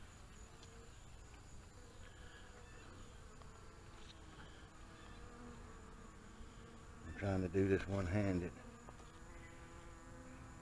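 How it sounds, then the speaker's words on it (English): Bees in a top bar hive keep up a continuous swarming buzz, close and low, while someone speaks briefly partway through over the hum. "We have got a swarm of bees."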